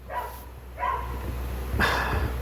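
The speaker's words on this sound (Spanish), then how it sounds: "Perdona el perrito." A small dog indoors gives three short, high barks spaced roughly a second apart, somewhat distant over a steady low electrical hum, with no talking.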